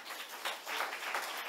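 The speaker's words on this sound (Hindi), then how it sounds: "एक बार जोरदार तालियों" Short burst of audience applause at a welcome ceremony for a former governor at an Indian education event, a soft, fairly distant patter of many hands clapping with no voices over it.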